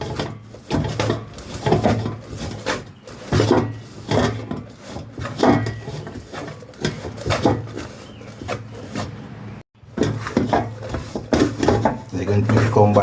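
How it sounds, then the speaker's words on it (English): Egg mixture seasoned with Maggi seasoning and salt is stirred in a bowl for a scrambled egg burger, giving repeated rhythmic scraping strokes close by under steady talk. "Stir it well."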